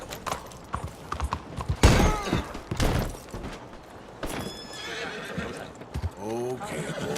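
Horse neighs and whinnies mixed with clip-clopping hooves in the video game Red Dead Redemption 2, several loud close whinnies over trotting hoofbeats, with someone talking briefly.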